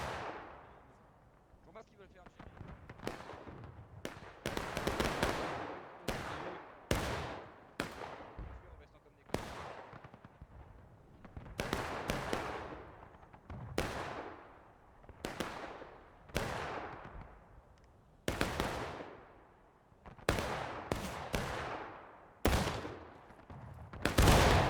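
Musket volleys and artillery blasts from a 300-player War of Rights battle at Nicodemus Hill: sharp, booming reports land every second or two, each followed by a decaying rumble, while a voice talks over the gunfire.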